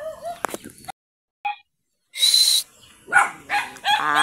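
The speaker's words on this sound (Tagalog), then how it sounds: "Sobrang ingay ng mga aso namin." Several household and neighbourhood dogs bark in short, separated bursts, some sharp and close, with brief silent gaps between outbursts and no talk over them.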